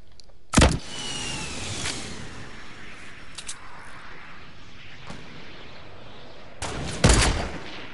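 Fortnite gunshots crack sharply, one loud shot early, then a few fainter pops, and a close double burst near the end, over a low steady background hum.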